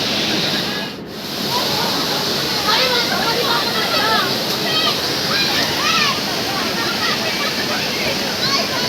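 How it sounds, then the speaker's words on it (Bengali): Borjhora waterfall in Bongaigaon, Assam pours in a loud, constant rushing roar while people bathe in it, with splashes and distant voices mixed into the torrent. "ঝর্ণায় পুরো স্নান করছে সবাই।"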